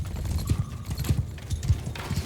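Horses galloping across a Mount & Blade 2: Bannerlord battlefield, a loud rhythmic clatter of hooves in repeating bursts, close by with no voices.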